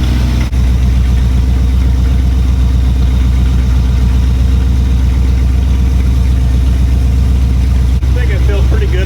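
A 1961 Cadillac DeVille engine idling, a loud steady low rumble running throughout with a slight uneven pulse.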